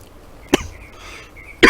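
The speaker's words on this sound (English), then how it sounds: "Something's making me cough." A person outdoors in a backyard garden coughs twice, two sharp, loud, close bursts about a second apart.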